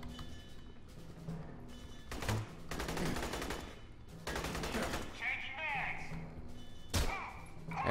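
Gunfire in the video game Aliens Colonial Marines comes in short bursts and rattling volleys with thuds between them, mixed with other game effects and a voice speaking at times.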